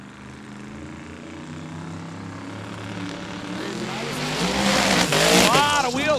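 Drag race car launching down the strip at Cordova Dragway during Sick Summer 2023, engine roaring and rising in pitch as it spins its wheels, loud and growing, with an announcer talking over it.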